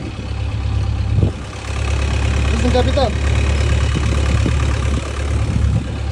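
The engine of a small boat idles with a heavy, even low drone on the water in Thailand. Someone speaks briefly over the running motor.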